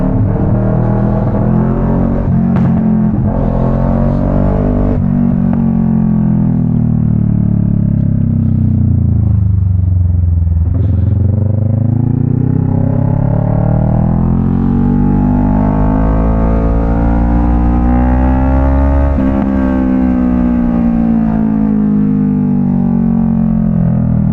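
A car engine drones loudly and steadily while the driver drops down into second gear, the pitch sagging and rising again as the revs change, with no talking over it.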